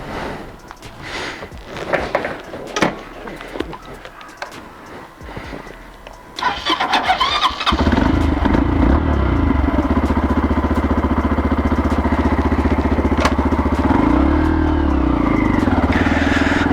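A 2016 Motrac M3 125 motorcycle, a Honda Grom clone, cranks and fires up after some handling noises, then settles into a loud, steady close engine drone as it rides off, the revs rising and dipping.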